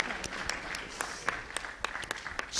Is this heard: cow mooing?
no